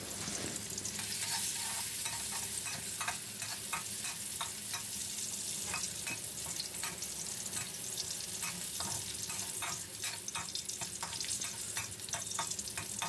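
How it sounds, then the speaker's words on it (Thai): Garlic frying in oil in a wok gives a steady crackling sizzle with irregular stirring scrapes throughout, close and fairly quiet, with no talking. "ตั้งกระทะนะครับ ใส่น้ำมันลงไปครับ ตามด้วยกระเทียมครับ เราเจียวให้เหลืองหอมเลยครับ"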